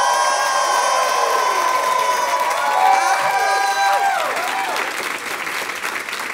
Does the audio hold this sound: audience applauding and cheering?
yes